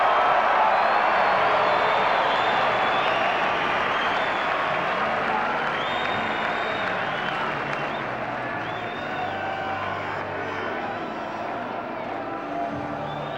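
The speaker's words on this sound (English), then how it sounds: "I expect some cheering here as we go through them." A large crowd at the 2000 Grand Final of Central versus the Eagles keeps up sustained applause and cheering, a dense roar of clapping that holds steady throughout.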